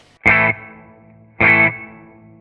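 Two sustained chords from a Telecaster electric guitar through a Two-Rock amp, each struck hard and left ringing with a springy reverb tail that decays between hits.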